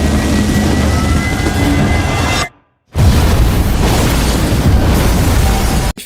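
A large explosion from a superhero drama scene, a sustained loud roaring blast that cuts off abruptly to near silence, then resumes as a dense rumbling wash with a brief dropout near the end.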